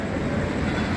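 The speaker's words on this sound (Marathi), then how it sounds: "ट्रेन येते आहे" A Mumbai local train pulling into a station gives a loud, steady broadband rumble of wheels and carriages, close by with no breaks.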